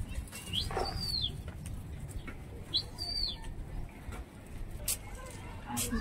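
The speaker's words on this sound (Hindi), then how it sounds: "ये जा रहे कबूतर अपने" Pigeons flap their wings in flight amid outdoor background noise, with a few short, high bird calls scattered throughout.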